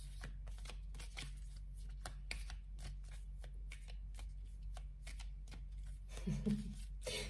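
Tarot cards being shuffled close by in a hot, sticky room, a steady run of soft riffling and snapping strokes with no talk, over a low constant hum, ending with a brief muffled thump.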